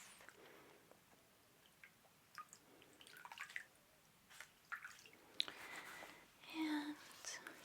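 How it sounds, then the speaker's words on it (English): A cloth being dampened, with soft irregular drips and wet squishing close up and quiet, becoming a little louder and fuller toward the end. "dampen our Chikorita cloth"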